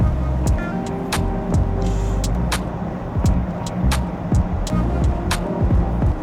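A Maybach car sits on a hot day in Dubai, giving a steady near engine or ventilation hum with repeated clicks and ticks over it.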